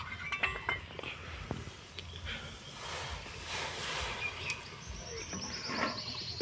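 A flattened rice mixture being stirred into lukewarm water in a wok over medium-low heat, with faint scattered clinks of a utensil against the pan and a soft wet background, quiet and close.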